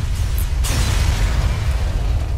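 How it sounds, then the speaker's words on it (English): A spaceship blows apart in the space game FTL, a loud sustained boom with a sharp crack at the start that rolls into a dense, steady roar lasting a couple of seconds. "let's just blow him up"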